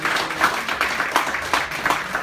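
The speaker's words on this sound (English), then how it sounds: "please have a nice round of applause for your volunteers that come up here tonight" Audience applause for hypnosis show volunteers, a dense, steady wash of clapping with a few sharper bursts, sustained and fairly loud throughout.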